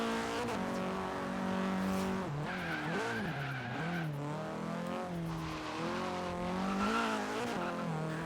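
Forza Horizon 3 video game car engine with a burbling, revving tone rising and falling through gear changes, tire squeal and skidding mixed in, steady and loud throughout with no talking.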